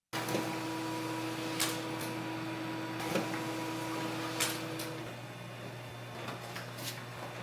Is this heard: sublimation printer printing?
yes